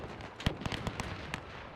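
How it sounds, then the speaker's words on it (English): Cannon fire in the World War I strategy game Between Empires, a few sharp distant booms and cracks spaced irregularly over a continuous battlefield rumble. "Is the direct fire cannon firing?"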